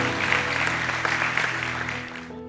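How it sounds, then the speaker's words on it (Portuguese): A church congregation applauding, dense steady clapping throughout that thins out at the very end, with a faint voice underneath. "Dê mais um aplauso a Deus"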